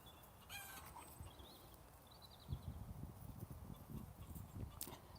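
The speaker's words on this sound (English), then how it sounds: "One of them's laid an egg and she's doing a victory lap with squawks." A hen squawks after laying an egg, giving a run of high clucks and cackles mixed with other chicken calls and some low thumping close by.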